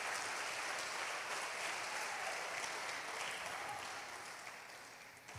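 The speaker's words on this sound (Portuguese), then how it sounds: "Aplaude mesmo, irmão, aplaude mesmo." A church congregation applauds in a sustained, even wash of clapping heard at a moderate distance, gradually fading toward the end.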